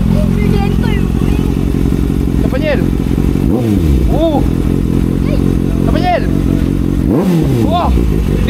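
A motorcycle engine revs loudly and close, its pitch rising and falling in repeated throttle bursts above a steady idle, while people talk and shout nearby.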